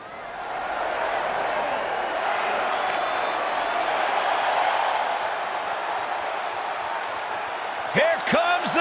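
A wrestling arena crowd in the WWE 2K20 video game roars and cheers in a steady, loud wash that swells and holds. Near the end, a brief burst of louder, sharper sounds cuts in over the crowd.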